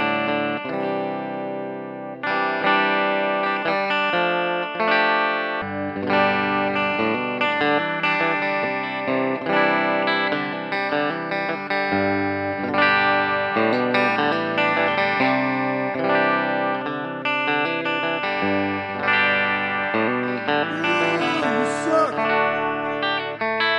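Fender Thinline Telecaster played on its bridge pickup through a Fender Blues Jr amp on a fairly clean setting with a touch of reverb, strummed chords and riffs ringing out loud and continuously for the whole stretch, with no talking.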